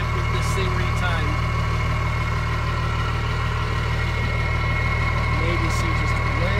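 A cold, freshly retimed 12-valve Cummins diesel engine idles steadily and loudly close by, a constant low rumble with faint knocking throughout.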